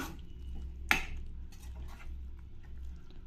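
Soya chunks coated in thick masala are turned over in a pan: one sharp spatula clank against the metal, then soft, faint scraping and stirring over a low steady hum.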